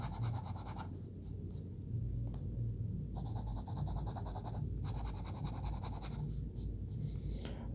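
A fine-point fountain pen nib writes on paper in short scratchy strokes with brief pauses between them, faint and close against a low background rumble.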